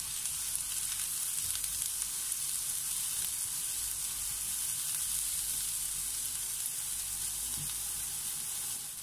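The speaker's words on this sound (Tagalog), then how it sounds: "maglalagay lamang pa ako dito ng 2 tablespoon of cooking oil and atin pong isasaute muna ang ating chopped onion" Chopped onion sizzles steadily in about two tablespoons of cooking oil in a pan for a Filipino spicy pork binagoongan, a soft, even frying hiss with no voices.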